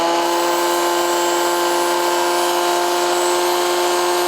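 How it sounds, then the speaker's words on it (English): A dedicated bench grinder sharpening a tungsten TIG electrode tip gives a steady, close, high whining hum, unbroken for the whole stretch and stopping sharply at the end. "to sharpen the tungsten tip, I'm always using a dedicated grinder for that"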